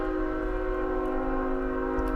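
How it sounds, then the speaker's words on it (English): A train horn holds a steady chord of stacked harmonic tones throughout, fairly loud, with a low rumble beneath and no talking. "I haven't actually heard the train horn on my new microphone."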